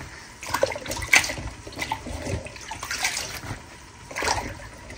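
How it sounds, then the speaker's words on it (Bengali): Malabar spinach being washed by hand in water in a bowl, with repeated sloshing and splashing close by, a few sharper splashes among continuous swirling water and no talk. "পুঁইশাকটাও এখানে সুন্দর করে আমি হচ্ছে একটা বোলের ভিতর দিয়ে ধুয়ে নিচ্ছি"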